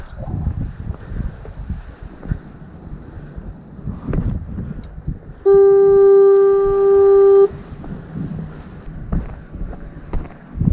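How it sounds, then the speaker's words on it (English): A lighthouse foghorn sounds once at the Westport jetty, a loud, steady low tone held for about two seconds over wind buffeting the microphone and open-air noise. "There's a fog horn."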